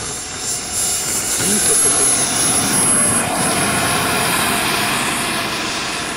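An ultralight airplane's engine drones steadily nearby, swelling and easing as it comes in to land, with people talking faintly underneath.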